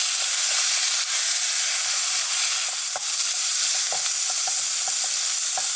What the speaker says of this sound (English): we're going to stir fry this on this very high heat for a maximum of 2 minutes